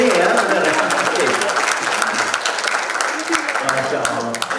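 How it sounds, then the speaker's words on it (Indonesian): An audience at a youth entrepreneurship bootcamp and festival claps steadily for several seconds in a dense, even wash of applause, with voices mixed in. "Beri tepuk tangan dengan kebanggaan benar ya."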